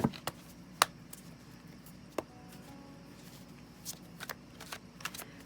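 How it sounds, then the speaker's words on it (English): Tarot cards are shuffled and cut by hand at close range, giving a series of quiet, separate riffling snaps and soft slaps spread unevenly over several seconds, with stretches of near silence between them. "going to shuffle and then cut."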